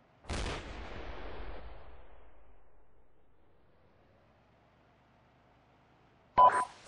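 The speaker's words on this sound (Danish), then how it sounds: "Skud kommer." A single loud blast from an AT4 anti-tank weapon fires near the start, its roar trailing off over several seconds into quiet, followed by a brief sharp burst at the end; no talking.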